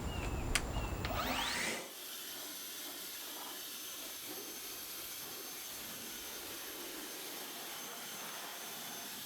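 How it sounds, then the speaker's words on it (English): An EGO cordless leaf blower blasts loose dirt and debris out of a BMW F30 engine bay. After about two seconds of handling noise, a loud, steady, close airy roar holds to the end. "I'm going to use my Ego blower and just go ahead and try to blow off any loose debris or loose dirt"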